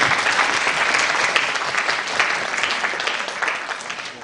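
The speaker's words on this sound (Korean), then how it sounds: "박수 한번 드릴까요?" An audience at a youth forum claps together in steady, sustained applause for a few seconds, with no talking over it.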